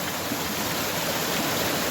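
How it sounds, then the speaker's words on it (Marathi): Natural waterfalls trickle down a hillside at night in the Konkan region near Malvan, producing a steady, even rush of water noise that continues without pause. "तसे मातीतनं हे धबधबे चालू आहेत"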